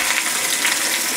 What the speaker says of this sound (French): Maintenant que le lard est revenu, on met un peu d'eau et on couvre. Un peu d'eau froide.